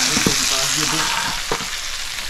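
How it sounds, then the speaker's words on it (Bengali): Fresh fish frying in oil in a pan, a loud continuous sizzle with a few clinks and scrapes of stirring close by. "আমাদের আজকে মাছ ভাজা কমপ্লিট"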